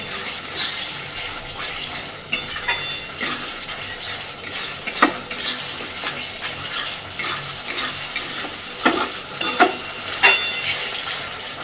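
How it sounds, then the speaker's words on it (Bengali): Chicken kosha masala fries in oil and is stirred, with a continuous close sizzle and repeated metallic scrapes and clinks of a spoon against the pot, fairly loud and without speech. "এইবার ভালোভাবে তেল ছাড়া পর্যন্ত মশলাটাকে আবারও কষতে থাকবে।"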